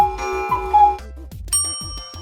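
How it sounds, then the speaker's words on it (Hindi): A bell rings with several bright, metallic strikes in quick succession, each tone ringing out briefly. "यह आवाज तो घंटी की है।"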